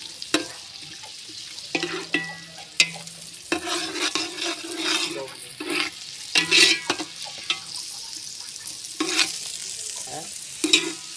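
Eggplant frying in a pan with spices, a continuous sizzle broken by repeated scraping stirs of a utensil against the pan, close up with no talking.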